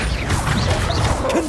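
A Bombarda spell goes off in the game Hogwarts Legacy: a sustained, busy crash of smashing debris and mechanical clatter with swooshing tones, loud and steady for the whole moment, with no talking.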